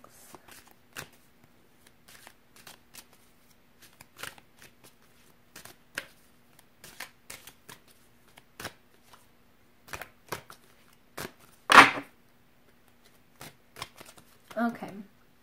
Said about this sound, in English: I'm going to be pulling an oracle card for you guys